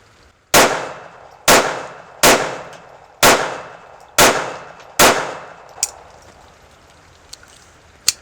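Six loud, sharp gunshots from a malfunction-prone handgun, evenly spaced about a second apart at close range, each with a short ringing decay, followed by a few faint clicks and clanks.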